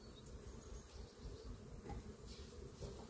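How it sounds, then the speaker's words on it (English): Honeybees buzz at an open hive during an early spring inspection, a faint, dense, continuous hum with no talk over it. "the bees are working fully"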